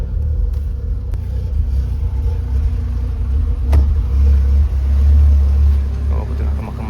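A car engine idles while warming up at night, a steady low rumble with a slight swell near the end, close by, as people talk over it.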